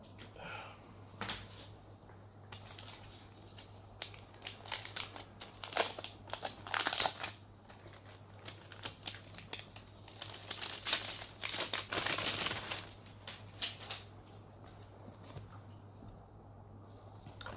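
Crinkling and rustling of plastic and cardboard packaging as the Honor Pad V9 two-piece keyboard is unboxed, with close, irregular bursts of crumpling and tearing.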